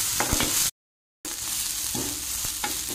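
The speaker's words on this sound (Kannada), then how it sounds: "ಇವಾಗ ನೀರುಳ್ಳಿಯನ್ನು ಕೂಡ ಇದರ ಜೊತೆಗೇ ಚೆನ್ನಾಗಿ ಫ್ರೈ ಮಾಡಬೇಕು" Onions and coriander leaves frying in a pan, a close, steady sizzle with repeated stirring scrapes, briefly cut to silence partway through, with no talk.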